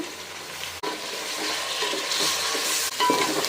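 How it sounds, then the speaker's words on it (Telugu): Cooked mutton fries in oil with ginger-garlic paste and turmeric, a close, steady sizzle broken by a couple of sharp scraping stirs of a spoon against the pan. "మటన్ అంతా బాగా కలుపుకొని ఒక నిమిషం ఈ నూనెలో వేగనివ్వాలి"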